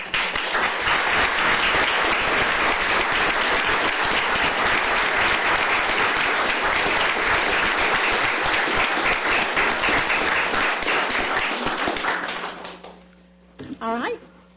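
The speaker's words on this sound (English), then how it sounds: "I would like to have the parents and the teachers who've come here to support them stand this morning so that we can give them a round of applause." A room at a county commissioners court session breaks into loud, sustained applause for parents and teachers, dense clapping for about twelve seconds before fading, followed by a brief voice.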